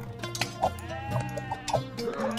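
Sheep bleating in the strategy video game 0 A.D., several short wavering bleats over about two seconds amid game sounds, fairly close and clear.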